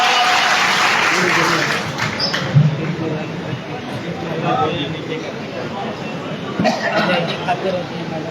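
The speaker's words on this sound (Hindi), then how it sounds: "अब आप जरा तालियां बजाई लीजिए।" An audience at a mushaira poetry gathering claps in a broad, moderately loud patter, with crowd murmur and chatter mixed in and slight swells toward the end.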